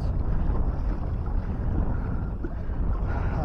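Wind buffets a kayak out at sea off Brunei during a fishing trip, a steady loud rushing roar with low rumbling gusts that continues without break and has no talk over it.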